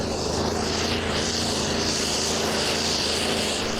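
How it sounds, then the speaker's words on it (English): A pulling tractor powered by a 14-litre Scania V8 roars at full throttle at the 2008 Danish tractor pulling championship round in Allingabro, a loud, sustained engine drone heard steadily from a distance with no talk over it. "Opening up his 14-litre Scania V8."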